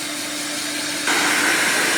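A hair dryer runs steadily to dry black acrylic paint on a wood round, giving a continuous close airy whoosh that steps up louder and brighter halfway through, as if switched to a higher setting, with no voices.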